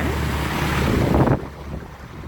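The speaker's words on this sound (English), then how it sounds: "The river has overflowed. There is massive flooding." Rushing water from a river that has overflowed its banks in a massive flood, a loud, dense roar mixed with wind buffeting the microphone, steady for over a second before dropping to a quieter wash.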